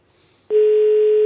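A telephone line on a radio call-in game show gives a single loud, steady electronic tone that starts abruptly after a faint moment and holds unbroken, with no voices.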